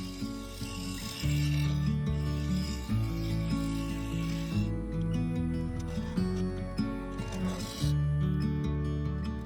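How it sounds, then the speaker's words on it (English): Scraper and skew chisel working an ash segmented bowl with coloured epoxy resin on a lathe, producing a steady rasping scrape over the continuous hum of the spinning lathe, no talk. "to blend it all together, I used a small negative rate scraper and the skew chisel"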